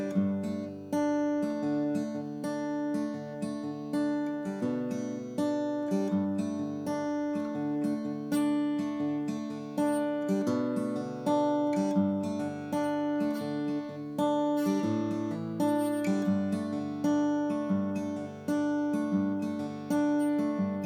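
Fingerpicked acoustic guitar plays a steady, ringing chord pattern, notes overlapping and sustaining throughout without any voice.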